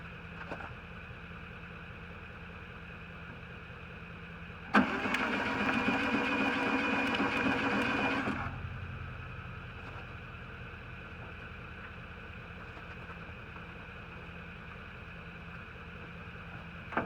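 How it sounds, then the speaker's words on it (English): A truck's starter motor engages and cranks the engine for about four seconds, a loud, dense whirring burst that stops abruptly, set against a steady background hum. "we're going to see if we can't get the starter to spin the motor over"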